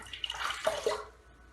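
Water running over shaving soap and a Rotbart razor in a sink, a brief close splashy wash lasting about a second that fades to quiet.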